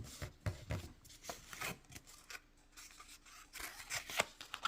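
Paper being folded into a junk journal folio, with close, quiet rubbing and creasing scrapes in short uneven strokes as the fold is pressed flat, and no voice.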